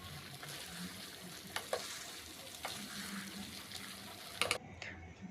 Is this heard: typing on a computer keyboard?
no